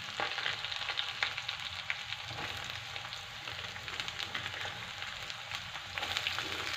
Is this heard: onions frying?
yes